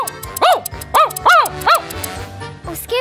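A dog gives four close, loud, high yipping barks in quick succession, then a softer fifth yip after a short pause.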